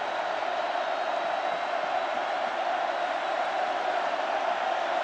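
A huge crowd of over 101,000 roars steadily in a packed stadium during an Ole Miss versus LSU college football game at night, a dense continuous wall of cheering with no talk.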